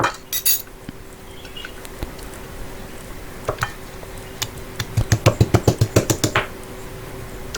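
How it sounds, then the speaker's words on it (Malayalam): A few scattered knocks, then a quick run of about a dozen evenly spaced thuds as ginger and garlic are pounded and crushed close by. No voices. "ഇഞ്ചി അങ്ങോട്ട് എടുത്ത് വെക്കുക പിന്നെ അതുപോലെ നമ്മളെ വെളുത്തുള്ളിയും ചതക്കുക"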